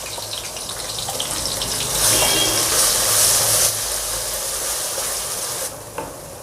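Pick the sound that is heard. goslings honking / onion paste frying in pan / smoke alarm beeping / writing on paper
onion paste frying in pan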